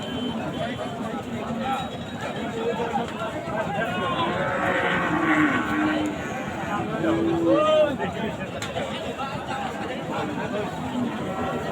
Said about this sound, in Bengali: বিশাল আকারের একটা গরু আপনারা দেখতে পাচ্ছেন